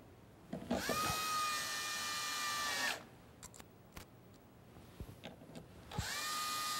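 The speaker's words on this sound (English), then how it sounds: "Align the operator over the holes and fasten, reusing the screws you removed earlier." A power drill drives screws to fasten a split arm casement window operator from Andersen Windows, with two long whirring bursts that wind down, separated by short clicks and handling knocks, fairly close.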